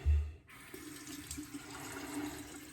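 A bathroom tap runs steadily to wet a bar of shaving soap for traditional wet shaving, with a low thump at the start and then a continuous hiss of water, no talking.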